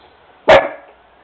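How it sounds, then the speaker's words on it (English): A single sharp dog bark, loud and close, rising abruptly out of quiet room tone and trailing off quickly. "She's barking at somebody outside the window."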